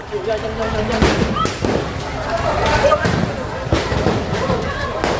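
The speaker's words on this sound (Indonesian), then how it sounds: "petugas berulang kali menembakkan gas air mata untuk membubarkan kerumunan massa" Repeated sharp bangs and pops of tear gas canisters fired at a tin miners' protest ring out over a noisy crowd, some close and loud, others further off, amid continuous shouting and commotion.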